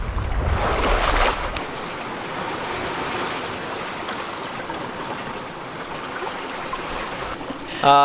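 A sailboat cruising the Grenadines in wind of about 14 knots, with a loud gust of wind buffeting the microphone at the start, then a steady wash of waves and rushing water around the hull.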